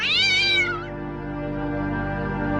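A single loud, close cat meow with a rising then falling pitch, followed by a steady electronic hum.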